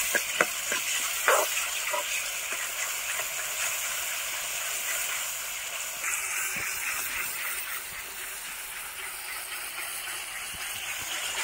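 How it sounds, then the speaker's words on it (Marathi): Finely chopped tomato sautéing in oil with salt over a wood-fired outdoor chulha, a continuous hissing sizzle with a few crackling pops early on, close and steady with no voices. "एक टोमॅटो मी तर बारीक कट केला होता, तर तो सुद्धा त्याच्यामध्ये परतून घेतला"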